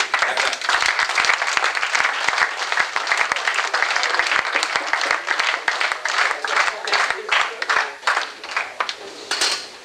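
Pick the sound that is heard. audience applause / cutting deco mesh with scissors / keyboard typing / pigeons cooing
audience applause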